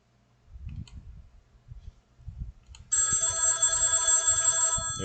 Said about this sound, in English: There's my cell phone